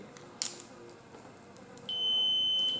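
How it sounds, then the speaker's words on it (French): A voltmeter in continuity-test mode sounds a steady, loud electronic beep that starts abruptly and holds for nearly a second, following a brief click as the probes touch during a check of drone ESCs. "il faut un voltmètre avec la fonction beeper"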